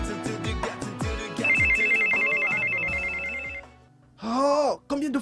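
Mobile phone ringtone plays in a classroom, a melodic electronic tune with a sustained high note, loud and close, then stops; a brief voice exclamation follows right after.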